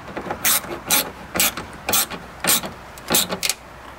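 A trailer mirror bracket being tightened on a 1993 GMC, about eight short ratcheting clicks in an uneven rhythm, close and crisp with no talking.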